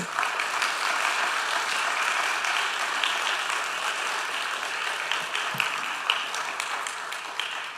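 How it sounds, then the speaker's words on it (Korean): A church congregation at an evening revival service applauds throughout, a steady wash of clapping at moderate distance with a few sharper claps standing out near the end. "나오실 때 큰 박수로 하나님께 영광의 박수를 돌리겠습니다."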